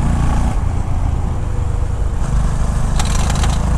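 A Honda CB 350 motorcycle gives a steady, close, bassy engine and exhaust rumble with constant low throb throughout, alone without voices.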